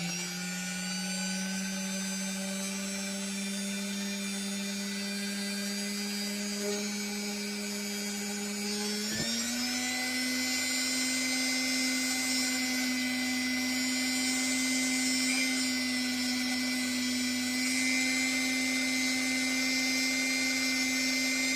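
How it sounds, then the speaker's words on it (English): A drill bit boring a straight hole through a crystal for a necklace, a steady high whine running continuously, dropping slightly in pitch partway through as the bit bites deeper. "what I'm going to do is just see how much of the crystal, how much of the drill bit is actually inside the crystal."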